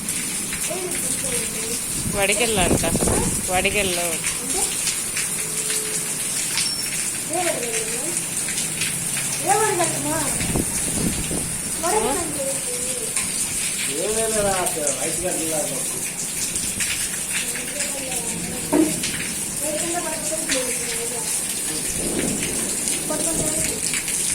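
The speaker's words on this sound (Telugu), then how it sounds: "వర్షంలో వడగళ్ళు పడుతున్నాయండి వర్షం పడేటప్పుడు వడగళ్ళు పడుతున్నాయి" Rain mixed with hailstones patters and rattles steadily on surfaces while a voice talks over the constant downpour.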